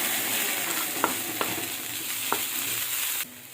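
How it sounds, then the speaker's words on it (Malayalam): Chopped agathi greens hit a hot pan and are stirred, giving a steady close sizzle with a few light scraping knocks of the spoon before the sound drops off abruptly near the end. "നമുക്ക് അതിനകത്തേക്ക് നമ്മുടെ അഗസ്ത്യ ചീര അരിഞ്ഞ് വെച്ചിരിക്കുന്നത് ഇട്ട് കൊടുക്കാം"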